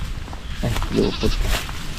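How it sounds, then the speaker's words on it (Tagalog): A tangled goat bleats close by outdoors, giving a couple of loud, wavering cries in quick succession over a low background rumble. "Lupot yung kambing ni Little King"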